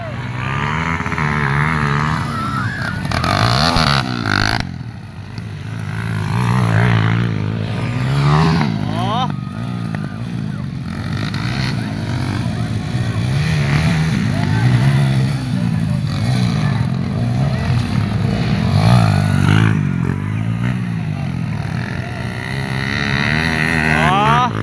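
A motorcycle engine runs steadily close by, its low rumble rising and falling, with people talking over it throughout.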